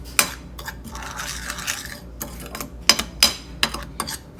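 Dry seasoning for fried chicken is mixed by hand in a bowl, making close, irregular scraping and sharp clinking taps against the dish in quick bursts.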